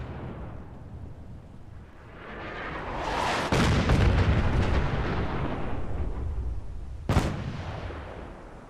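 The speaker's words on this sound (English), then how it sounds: "Love the artillery. Don't they fire a couple of rounds?" Artillery in Fallout 4 with the Sim Settlements 2 mod fires a round, a loud booming blast with a long rumbling tail, followed by a sharper second report near the end.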